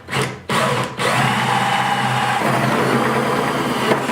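A power drill fitted with a 3.5 inch hole saw cuts into a plastic bucket, whining in two short bursts before settling into a steady, loud grinding run that lasts several seconds.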